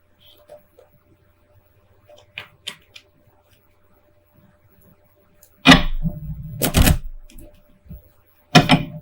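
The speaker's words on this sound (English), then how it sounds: "Let's pull a few clarifying cards on this." Tarot cards handled during a love reading: a few faint taps and slides, then several loud sharp slaps and riffling bursts as cards are shuffled and pulled close to the microphone.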